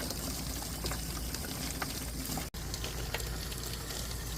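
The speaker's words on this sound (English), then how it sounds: "So go ahead and let this drain." Water draining out of an RV water heater during a flush, a steady, even rush of flowing liquid throughout with one brief dropout midway, heard alone.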